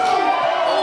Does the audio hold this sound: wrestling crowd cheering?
yes